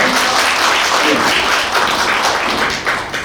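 Residents gathered at a neighborhood housing redevelopment briefing clap for a newly introduced committee chair, loud close handclapping from a roomful of people with a few sharper taps and thuds, fading slightly near the end.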